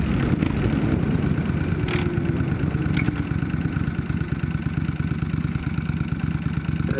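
A Kawasaki Vulcan 1500 motorcycle rumbles along at a steady low throttle, its engine drone continuous and close with faint rattles and no speech.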